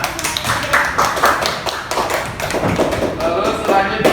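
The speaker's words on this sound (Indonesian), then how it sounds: "Ya, tepuk tangan semuanya." Scattered claps and taps from a group applauding gymnastics students in a floor exercise class, uneven and close, mixed with room noise.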